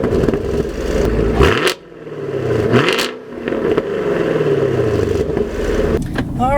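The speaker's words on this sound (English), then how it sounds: "hit the engine start button, and it roars to life. Oh, it sounds so good with this dual mode exhaust" 2017 Chevrolet Camaro SS 1LE V8 with dual mode exhaust, loud and close, idling with a rough burble and blipped revs that rise and dip several times.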